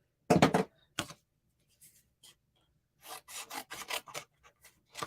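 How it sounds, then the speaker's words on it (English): Snips cut through thin metal plate in short, dry, crunching bursts: a few isolated snips, then a quicker cluster of cuts, close and fairly quiet with silence between. "Let me grab a pair of snips."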